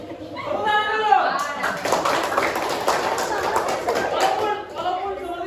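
Classroom applause after a student group introduces itself, a dense patter of clapping from many hands that holds steady for several seconds amid chatter and some laughter, with a voice speaking at the start and end.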